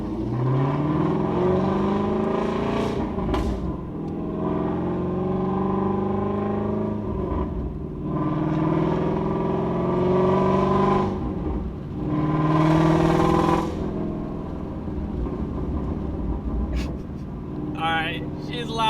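A Ford Mustang GT350 fitted with a Shifteck cat delete exhaust accelerates through several loud, rising revs with drops between pulls, heard from the car as it leaves a neighborhood.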